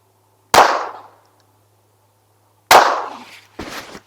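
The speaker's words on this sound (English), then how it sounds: "Okay, there's 3 shots there." Three unsuppressed .22LR shots from a Rex Selentium MG22 rifle at an outdoor target range, each a loud, sharp crack with a decaying tail; the first stands alone, then two more follow about a second apart near the end.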